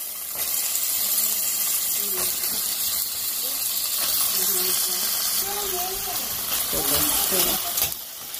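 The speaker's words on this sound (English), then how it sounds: "So now I'm just gonna add the peas." Peas dropped into hot olive oil in a pan over low heat give a steady loud sizzling hiss throughout, with a few faint clinks and a voice talking over it.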